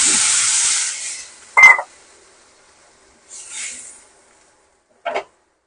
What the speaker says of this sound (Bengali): আলুগুলো কষানো হয়ে গেছে নুন হলুদ দিয়ে। আমি জল দিয়ে দিচ্ছি।